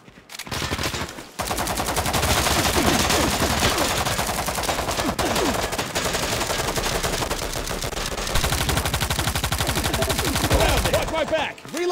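Sustained automatic gunfire from a mobile shooter video game, a dense, loud, rapid rattle of shots that runs almost without pause after a brief opening gap, with no talk over it.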